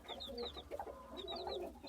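Newly hatched Aseel Shamo chicks peep in soft, high chirps in short bursts. They sound close but faint, over a low background hum.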